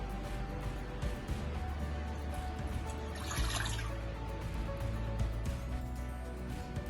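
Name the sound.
water being poured into a pot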